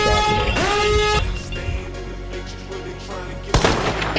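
Rapid bursts of video game gunfire in Hunt: Showdown crack over a dense, busy soundscape, with a sharp louder shot near the end.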